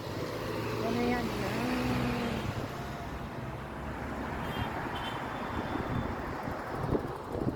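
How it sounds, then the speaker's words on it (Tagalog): Street traffic on a busy road with many cars passing sets up a continuous rumbling roar. Wind buffets the microphone throughout, and a person talks over the noise. "Pero pagdating dito, ang daming sasakyan."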